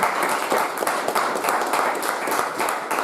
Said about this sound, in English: Steve Hall and NBR TV deserve a big round of applause.